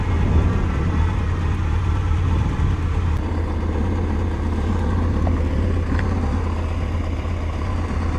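A 2004 Honda CBF 600 motorcycle engine running steadily as the bike pulls over to the roadside, a loud continuous low drone with little change across the stretch.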